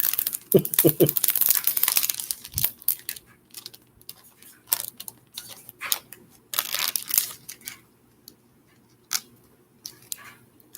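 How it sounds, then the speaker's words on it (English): Backing paper peeled from a diamond painting canvas, a crinkly tearing rustle in the first few seconds, close and fairly quiet, followed by scattered soft crinkles and handling noises. "It might help if I pulled back the paper."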